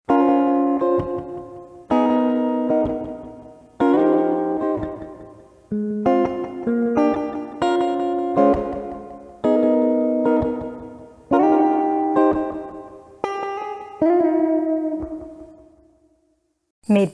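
An original guitar riff plays alone as a series of distinct strummed chords, each ringing out and decaying before the next, about eight phrases in a steady rhythm, clean and close with no talking.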